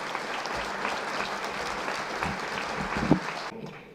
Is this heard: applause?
yes